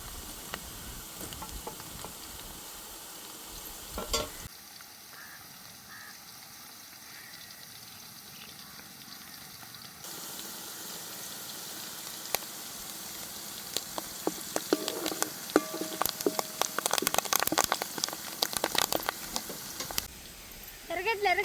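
Chopped green chillies sizzle in hot oil with softened onions for a stingray fish dish, a steady frying hiss that grows louder and crackles more busily in the later part, with occasional utensil knocks.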